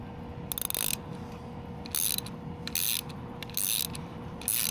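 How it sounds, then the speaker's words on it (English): Ratchet wrench tightening a bolt while lowering springs are fitted to a Toyota GR86, heard as four or five short bursts of rapid metallic clicking with brief pauses between them, close and crisp. "you tighten it until it won't tighten any longer"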